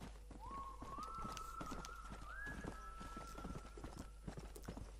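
Horse hooves clip-clop in a quick, steady rhythm over a low hum, with a rising synthetic tone sweeping in game-like fashion, in the video game Red Dead Redemption.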